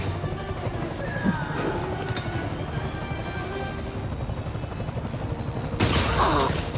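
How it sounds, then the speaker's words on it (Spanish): Helicopter in the Marvel's Spider-Man: Miles Morales video game, a steady rotor-and-engine drone filling the whole clip with little change, growing slightly louder and harsher near the end. "Me temo que va a tener que aparcar el helicóptero"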